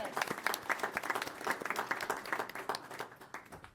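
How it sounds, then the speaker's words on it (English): A round of applause breaks out at a Sacramento Regional Transit District board meeting, a modest group clapping in quick, uneven bursts that thin out and fade over a few seconds. "Give them a round of applause here."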